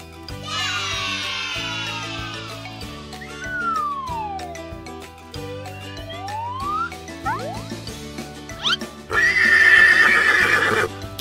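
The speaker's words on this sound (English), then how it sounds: "It's a horse!" A horse neighs in a long, high whinny, followed by playful musical sound effects over a bouncy background tune, and a second bright, shrill neigh bursts out near the end.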